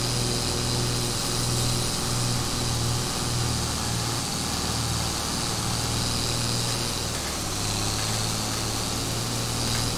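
Tractor engine in Farming Simulator 22 pushing through a flooded forest, a steady loud drone with a low rumbling throb running unbroken throughout, with no voices over it.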